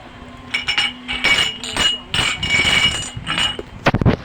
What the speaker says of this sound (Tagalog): Kuha niyang mga baso guys, tangan sa baso kay para sandig lang sa cellphone.